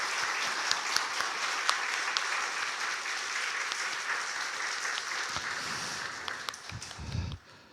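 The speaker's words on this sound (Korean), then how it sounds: "우리 성도님들이라도 감사의 마음을 담아 우리 교사분들께 박수를 한번 격려해 드릴까요?" Church congregation claps in thanks for its teachers, sustained, evenly textured applause from a room full of people that thins out and fades toward the end.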